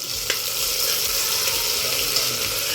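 Ginger-chili-garlic paste sizzles steadily in hot oil in a pressure cooker, a continuous close frying hiss with faint scraping of a stirring spoon and no voices.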